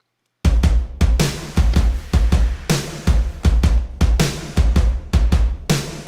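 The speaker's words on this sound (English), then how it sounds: "So when all the drums are put together" The layered drums of the intro to a song play together, loud and punchy, striking in a steady rhythmic pattern of repeated hits with booming low kicks and crisp decays.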